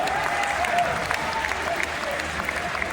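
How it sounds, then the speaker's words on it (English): Audience applause at the Georgia Aquarium dolphin show, a dense, steady crowd clapping filling the whole stretch, with faint voices mixed in. "Let's give them a round of applause."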